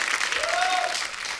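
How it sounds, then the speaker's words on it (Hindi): Studio audience on The Kapil Sharma Show bursts into loud, steady applause for Sara Ali Khan, dense clapping filling the whole moment with a brief whistle-like tone riding over it and faint voices mixed in. "जोरदार तालियां सारा के लिए"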